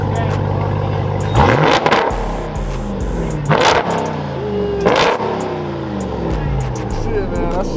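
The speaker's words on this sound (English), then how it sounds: "Can I hear it? He just got his straight pipe, y'all." A loud Hellcat-engined truck revs hard three times through an open, raspy straight-pipe exhaust, roaring up and settling back between bursts, with a voice talking over it.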